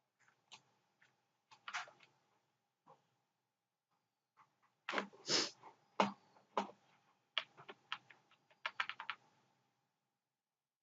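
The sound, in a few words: typing text on a computer keyboard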